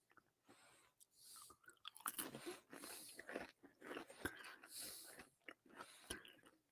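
Crackers with a little salt crunched up close in the mouth, a series of irregular, crisp bites and chewing bursts separated by short quiet gaps.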